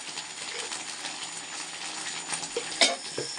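Pasta is stirred through sauce in a pan over a soft sizzle, with gentle scraping and a sharp utensil clink near the end.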